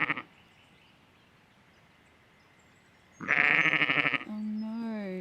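A quiet stretch, then a loud, close sheep bleat followed by a second wavering bleat, from sheep that have broken out of their enclosure.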